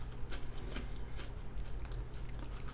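A spicy chip is bitten and chewed up close. Soft, repeated crunches sit over a quiet, steady background hiss.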